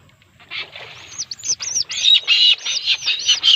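A barred rail calls at night during a crab hunt: a run of bright, rising chirps repeated in quick succession, growing louder and closer over a few seconds, with no talking.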